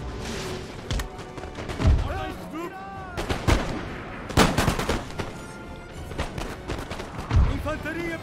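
Musket volleys in the Napoleon: Total War online battle, a series of loud cracking shots and booming reports spaced a second or two apart, with someone talking over the gunfire.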